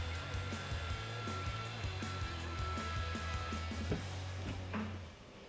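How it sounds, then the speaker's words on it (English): The SMG hydraulic pump on a BMW E60 M5 with a V10 whines as it primes before startup, a steady tonal hum with faint clicking that runs for several seconds, then drops away near the end. "That whining noise you hear right now is the SMG pump."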